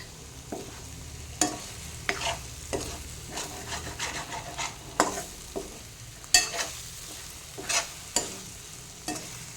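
Bitter gourd tossed with masala in a pan, frying with a low continuous sizzle while a spoon scrapes and knocks against the pan in a steady, repeated stirring rhythm.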